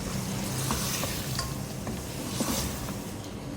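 Mutton pieces fry in hot oil for arvi gosht, giving a dense, steady sizzle close up with scattered scrapes and clinks as the meat is stirred.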